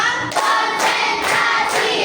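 Rhythmic group clapping in a numbered clap pattern during an ice-breaking game in a class session, several crisp bursts in a regular beat.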